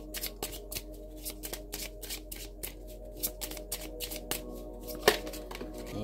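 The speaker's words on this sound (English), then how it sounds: "Now I've been doing a couple of pre-shuffles," A deck of cards is shuffled by hand in repeated quick riffles and snaps, crisp and close, in a steady rhythmic series with one sharper slap near the end.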